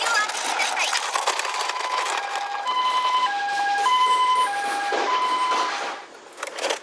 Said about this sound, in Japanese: いろんなサイレンの音が鳴るみたい。